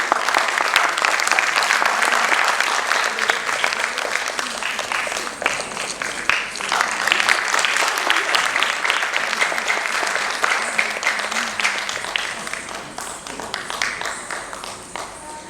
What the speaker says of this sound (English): So a big round of applause for all entire team.